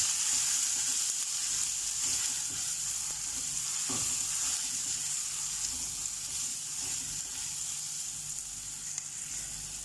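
Masala of coriander, cumin and chilli powder fries in a pan, a steady hissing sizzle running throughout at moderate level with a single sharper stir or tap near the middle.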